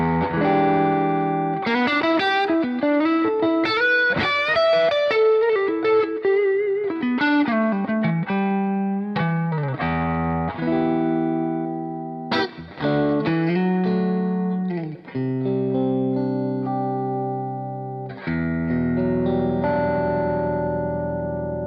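Electric guitar played through a Mesa Boogie Mark II C+ amplifier with high-gain overdrive, a loud, distorted run of chords and single notes with sustained, saturated tones and short pauses between phrases.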